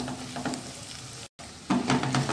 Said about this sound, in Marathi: व्यवस्थित हलवून घेऊया आपण, एकजीव करून घेऊया व्यवस्थित त्याला।